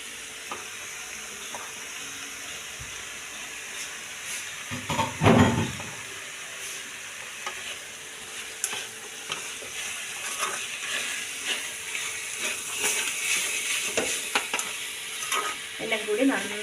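Tomatoes and onions fry in a pan for chicken curry, a steady sizzle broken by a spoon scraping and stirring, with a louder burst of stirring early on and busier scraping toward the end; no one talks.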